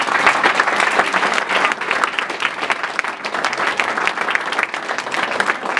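A church congregation applauds the Lord during a worship service, with dense, steady clapping from many hands filling the room at full volume throughout, no voices standing out.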